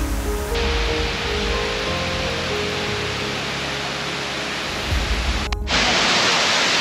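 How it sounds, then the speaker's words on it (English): A waterfall at Handara, Bali, spilling over black rock into a shallow pool, roars as a steady, loud, dense rush of falling water that fills the whole clip with no voices. "This waterfall is just so beautiful with the black rock and the lush green leaves that just hang beside it"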